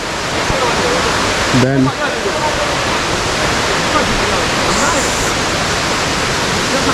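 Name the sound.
waterfall roaring in Meghalaya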